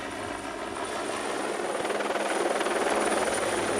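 A police helicopter flies overhead with a loud, steady rotor and engine roar, its blade chop pulsing evenly and growing slightly stronger, with no voices.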